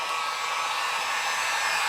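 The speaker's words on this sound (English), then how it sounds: "So we're going to go ahead and turn our heat gun on." A heat gun used for restoring an old antique clock runs continuously with a steady, airy blowing hiss close by, holding an even level throughout with no voices.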